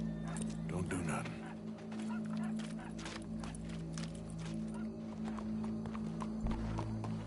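Horse hooves clip-clop steadily in Red Dead Redemption 2 as riders move along, the even trotting rhythm sitting under a game soundtrack and people talking.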